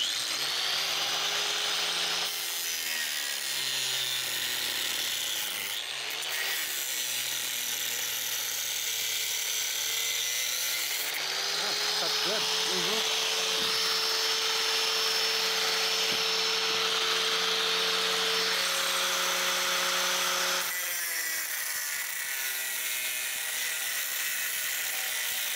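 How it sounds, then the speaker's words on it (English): A Harbor Freight angle grinder fitted with a cutting wheel runs steadily on metal during trailer hitch work, a loud close continuous high whine whose pitch shifts as the load changes, with no talk. "I use my Harbor Freight angle grinder here with the cutting wheel on it."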